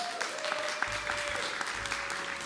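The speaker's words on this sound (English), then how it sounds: "round of applause for Stephen" Applause for Stephen Wachtel at an afternoon dialogue event, steady clapping from a gathered audience with a few sharper claps popping out and a faint low hum underneath.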